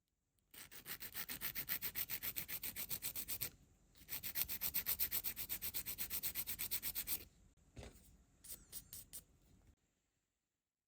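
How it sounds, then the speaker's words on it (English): Rapid rhythmic back-and-forth scraping of fine sanding on putty over a model car body, in two long bursts with a short pause, then a few brief strokes before stopping. "when it's dry, give it a good sanding"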